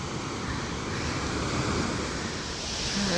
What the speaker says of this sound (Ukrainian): дивіться, як бушує той океан, а вітру немає